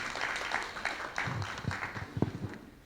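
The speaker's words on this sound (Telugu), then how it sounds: "అందరం ఒకసారి ఉద్యమానికి మద్దతుగా గట్టి ఒకసారి చప్పట్లు కొడదాం" A gathered crowd at a rally backing a movement gives scattered, uneven clapping, a handful of sharp claps heard fairly close, irregular and thin rather than a full ovation.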